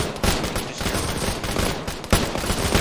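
Sustained, dense gunfire rattles loudly and continuously through a military-style skirmish exercise, with overlapping bursts from several weapons and a sharp crack near the end.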